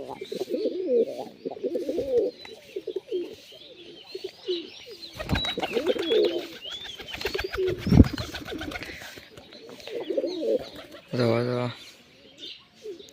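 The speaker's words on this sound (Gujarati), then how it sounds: "બે કબૂતર હાથમાં બેસી ગયા તો" Pigeons coo close by with occasional wing flutters and clatter while someone talks over them at intervals.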